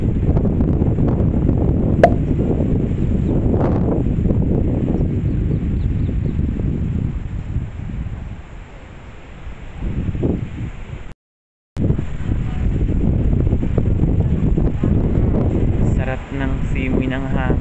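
Strong breeze gusts buffet the microphone with a constant low rumble in Yerba Buena Gardens, San Francisco, briefly dropping out once before returning just as loud.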